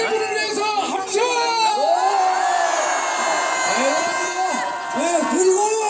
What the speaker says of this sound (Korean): 이 세 분을 위해서 함성!